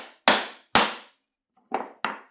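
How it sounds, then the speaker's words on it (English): A wooden mallet knocks glued wooden pieces apart in four sharp, loud strikes: two close together, a pause, then two more in quick succession, with no talking. "Actually, it's mallet time."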